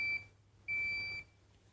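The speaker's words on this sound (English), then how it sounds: "So it will beep when the first cycle's finished." An electronic device gives two high-pitched beeps, the second longer than the first, over faint background hum.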